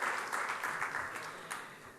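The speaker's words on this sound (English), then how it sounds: "Round of applause for all of you who have come here and the dignitaries," A crowd applauds steadily, dense clapping filling the whole moment without pause.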